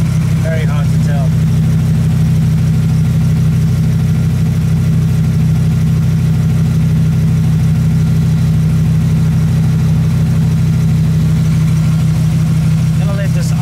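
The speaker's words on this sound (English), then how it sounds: "Gonna let this idle and warm up before I try driving at all" A car with a freshly repaired exhaust idles steadily while warming up, a constant low engine drone close by for the whole stretch, with faint intermittent sounds above it.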